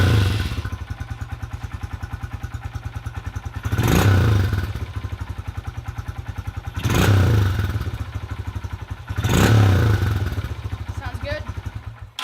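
A Honda CRF125F dirt bike engine, its throttle screw just adjusted, idles with a steady rapid putter and is blipped three times into sharp, loud revs that quickly fall back to idle, heard close up.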